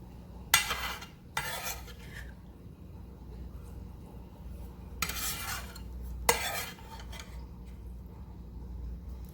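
Onions added to a pan for a chicken and onion casserole, with two pairs of brief scraping stirs against a quiet low hum and little sizzle between them.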